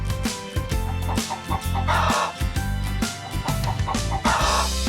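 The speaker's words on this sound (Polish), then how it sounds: "To kura!" A hen clucks in short bursts over continuous bright music, the clucks coming in quick irregular runs throughout.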